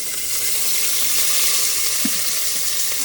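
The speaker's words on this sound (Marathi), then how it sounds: "लसूण, कांदा, अद्रक आणि टाकलंय. चांगलं भाजून घेते." Garlic, onion and ginger fry in a pan for a chicken Kolhapuri masala, giving a steady, close, broadband sizzle throughout with faint stirring scrapes and no voices.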